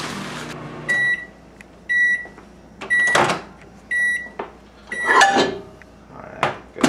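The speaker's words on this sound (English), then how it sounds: "we're gonna microwave it for 30 seconds" A microwave oven heats a bowl of cheese stuffing. Loud beeps sound repeatedly as it is set, a door clatters open and shut, and dishes knock close by, with no talking.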